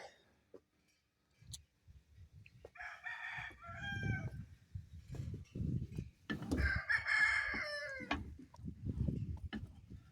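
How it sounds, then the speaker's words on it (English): Several roosters crow in turn, loud and near, with clucking and rustling between the calls. "Too many roosters crowing."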